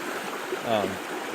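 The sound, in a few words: Slate Creek stream flowing under a bridge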